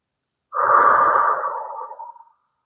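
One long, breathy exhale, close and fairly loud, tapers off over about two seconds while a bridge pose is held during a yoga-inspired calisthenics session, with silence before and after.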